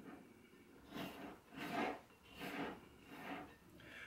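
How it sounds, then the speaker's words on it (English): A scraper drags around the sides of a bowl of cinnamon raisin no-knead bread dough in four or five slow, rhythmic rubbing strokes, close and fairly quiet. "I'm going to scrape the sides down."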